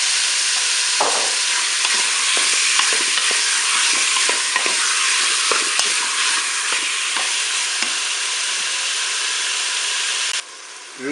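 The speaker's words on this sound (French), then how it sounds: "Mon beurre est fondu, je vais pas attendre la fin du préchauffage" Beef pieces brown in melted butter inside a Cookeo multicooker with a loud, dense, continuous sizzle, broken by scattered scrapes and stirring clicks before it suddenly cuts off near the end.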